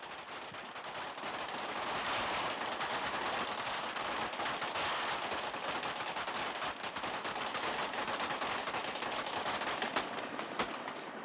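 Dense, continuous rattling bursts of blank gunfire with booming explosions on a film set, a loud sustained barrage that never lets up for the whole stretch.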